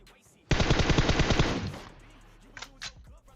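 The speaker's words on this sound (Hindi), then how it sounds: "तो मैं थोड़ी सी गोलियां बर्बाद करता हूं" A loud, rapid automatic burst of gunfire from PUBG Mobile rakes the bushes for over a second, then cuts off, leaving quiet game ambience with a couple of faint clicks.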